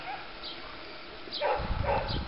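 Podenco Ibicenco hounds bark and yip at a race, a few sharp barks growing louder toward the end over outdoor noise, with an announcer talking in the background.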